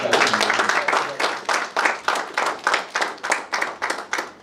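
Audience at an anniversary celebration claps in steady, rhythmic unison, a room full of hands beating out regular strong claps that grow more distinct and evenly spaced, with a voice briefly heard at the start.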